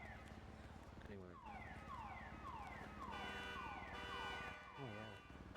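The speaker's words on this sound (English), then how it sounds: "The damn car alarm. You hear that?" A car alarm in a video game wails continuously, cycling through rising and falling electronic tones, loud and steady for several seconds.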